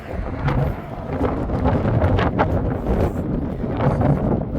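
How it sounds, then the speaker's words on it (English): Strong wind blows outdoors, roaring steadily and buffeting the microphone with a loud, continuous rumble for the whole stretch. "It's so windy."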